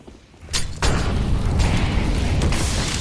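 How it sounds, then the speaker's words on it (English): Grenades detonating on the Inferno map in Counter-Strike, a burst at about half a second followed by sustained loud booming rumble and crackle, with no voices over it. "Nades coming in."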